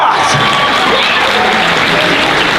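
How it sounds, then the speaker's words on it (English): At an anime convention's closing ceremony, a large crowd claps and cheers loudly, a dense wash of applause with scattered shouts filling the short stretch. "So please, give yourselves a round of applause!"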